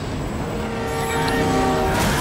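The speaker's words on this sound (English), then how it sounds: "Beat the train, man!" A train rumbles past in the video game Grand Theft Auto 5 during a car chase, a loud, steady rolling roar with rising metallic tones and a building swell at the end, close by.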